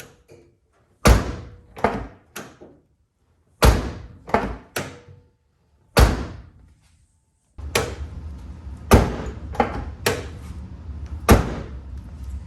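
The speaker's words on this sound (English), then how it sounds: "Here's a before of opening and closing the door." A Mazda Miata car door with worn stock bushings opened and shut several times, each close latch and thunk sharp and loud, followed by rattling handling noises.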